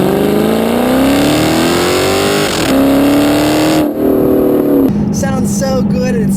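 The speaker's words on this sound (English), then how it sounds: "That V8 engine with this Borla exhaust" A 2006 Chrysler 300C SRT8 V8 with a Borla exhaust revs hard, loud and close, its pitch climbing through several gear changes with a rising rumbling drone.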